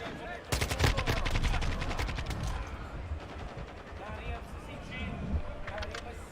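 Gunfire in Call of Duty Modern Warfare 2, a dense series of sharp shots and bursts with someone talking over the action, moderately loud and continuous.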